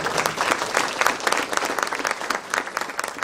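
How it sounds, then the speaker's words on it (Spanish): Loud, steady applause from a conference audience for a speaker, a close, dense clatter of many hands with clear individual claps pulsing throughout. "pedimos un aplauso nuevamente"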